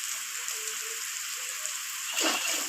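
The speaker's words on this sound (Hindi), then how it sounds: "मसाले को थोड़ा सा भून लेंगे ताकि इसका फ्लेवर शामिल हो जाए" Whole spices, cinnamon, cloves, black pepper, black cardamom and bay leaf, frying in oil in a pot: a steady bright hiss with faint crackles, swelling into a louder sizzle near the end.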